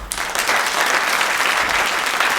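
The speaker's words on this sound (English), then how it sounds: "give him a round of applause" A brief, steady round of applause from a live audience at a Halloween comedy show, close and fairly loud, a dense wash of clapping with no voices.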